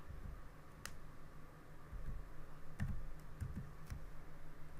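Soft, close keystrokes on a computer keyboard as code is typed, a quiet irregular patter of clicks with a few sharper taps and no talking.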